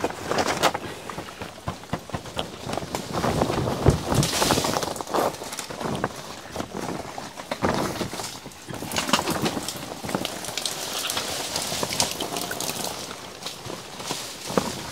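Heavy rain pours steadily over a house construction site, a dense continuous hiss with irregular patters and drips on surfaces throughout, loud and close, with no talking.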